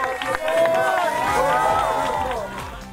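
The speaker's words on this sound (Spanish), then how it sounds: "Fuerte el aplauso para todos los esfuerzos que hicieron posible." An outdoor audience at a Tarifa prize event cheers and claps for the participants, a loud, steady swell of crowd noise with a voice rising over it that fades slightly toward the end.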